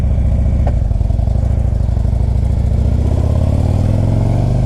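Harley-Davidson CVO motorcycle, a 2011 or 2012 model with 47,000 miles, idling close up with a loud, steady, lumpy V-twin rumble that rises slightly in pitch near the end as if lightly revved.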